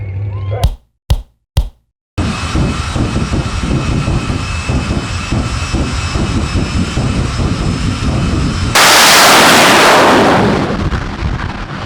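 Drag race cars open with a few sharp pops, then a loud, sustained engine roar that swells into an even louder rushing blast near the end before fading slightly.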